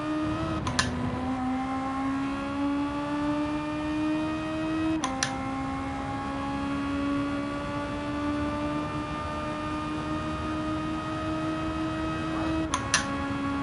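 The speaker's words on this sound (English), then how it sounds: "Honda VTEC touring car engine all day long" A Honda VTEC touring car engine in Gran Turismo 7, steadily droning at high revs with rising pitch through each gear, broken by sharp shift cracks at regular intervals, loud and continuous with no talk.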